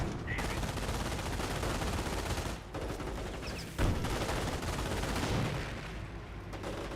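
Gunfire in the real-time strategy game Company of Heroes, a dense, continuous stream of machine-gun and rifle shots. Explosions go off intermittently throughout, and someone talks over the din.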